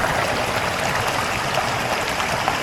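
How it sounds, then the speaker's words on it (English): Warm, steaming hot spring waterfall on a natural trail, giving a steady, loud broadband rush of falling water that stays even throughout with no talk. "I see steam coming out of that waterfall there."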